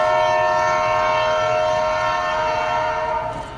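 A train horn blares loud and close, a sustained steady chord that holds for several seconds before easing slightly at the end, with no voices over it.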